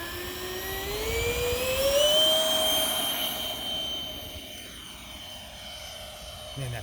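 A Durafly DH 100 Vampire electric RC jet takes off outdoors: a loud ducted-fan whine climbs steadily in pitch as it speeds up, then fades and drifts as the model moves away, over steady wind noise.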